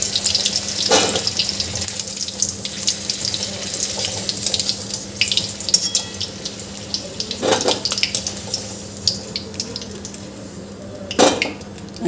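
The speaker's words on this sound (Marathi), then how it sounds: "हे राहिलेले सुरण हे तळून घेते। हे सुरण सुद्धा छान खरपूस तळून घेते" Pieces of suran, elephant foot yam, fry in hot oil over a high flame, giving a continuous bright sizzle broken by a few sharp clinks of a utensil against the pan.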